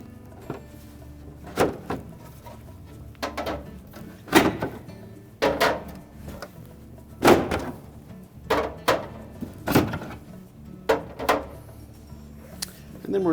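Plastic bins being pulled from a Frigidaire refrigerator door, giving a series of sharp clunks and rattles at irregular intervals, close and fairly loud, with brief pauses between handling sounds.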